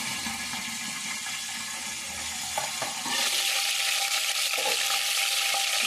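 Curry leaves and green chillies hit hot oil for a Telugu chicken fry, starting as a quieter crackle with a few pops before a louder, sustained sizzle takes over midway.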